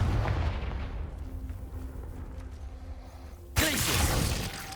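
Confringo blasting spell going off in the Hogwarts Legacy video game: a sudden loud burst about three and a half seconds in, after a stretch of low rumbling game ambience, with a roaring tail that lingers to the end.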